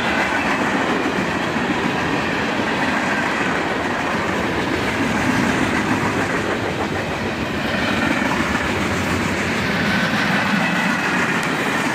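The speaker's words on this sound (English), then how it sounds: "And here's the nightly empty slab flat cars packed onto this train." A CSX freight train hauling empty slab flat cars rumbles steadily past at close range, wheels clacking over rail joints with a faint squeal now and then, loud and unbroken throughout, no talking.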